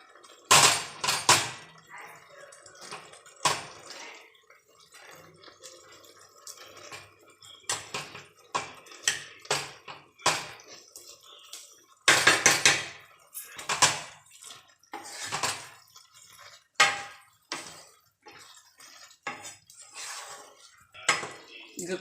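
Chickpeas being mashed in a pan while cooking Punjabi chole masala, giving repeated clanking and scraping knocks of a utensil against the pan, in irregular close bursts with short pauses between.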